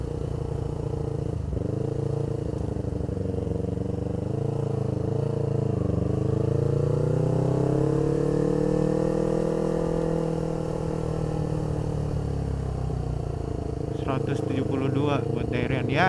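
A Yamaha R25 motorcycle rides along as its engine hums steadily, pitch rising and falling gently with throttle, continuous and close with wind rush, while the rider speaks over it.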